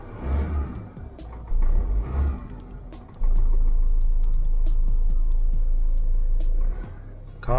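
A Kia Cee'd car engine starts and settles into a steady low idle rumble after a few brief cranking bursts, with small clicks and rattles on top.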